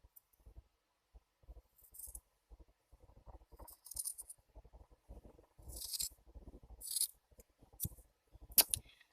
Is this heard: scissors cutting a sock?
yes